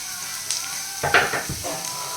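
Onions and mixed vegetables frying in a home kitchen pan for a Kannada recipe give a low steady sizzle, with brief clatter and stirring scrapes near the middle.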